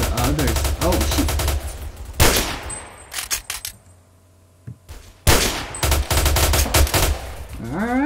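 Rapid automatic gunfire in the Roblox video game, with dense bursts of shots in the first two seconds, a quieter gap with scattered clanks, then another stretch of loud, fast firing.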